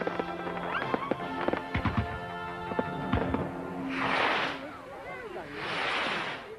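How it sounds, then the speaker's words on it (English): Fireworks crack and pop rapidly in a scattered burst on a Channel 4 ident, followed by two long whooshing hisses of rockets or bursts fading out, close and fairly loud. "It's firework day on 4."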